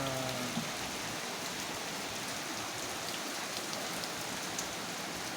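Steady rain falls in Kremenets, Ukraine, a dense, even hiss of drops on surfaces that continues unbroken and close throughout, with a faint trace of a voice at the very start.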